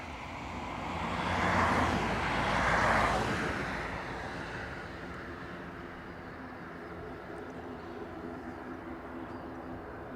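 Aer Lingus or Ryanair airliner at Dublin Airport: a broad jet-engine roar that swells to a loud peak and then fades into a lower, steady rumble at a distance.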